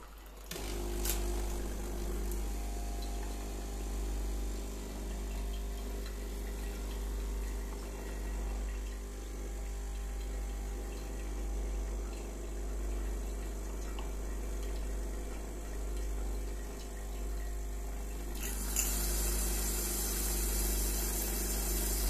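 A coffee machine flushes citric acid descaling solution, giving a steady low pump hum with running water throughout and a brighter surge of hissing flow near the end.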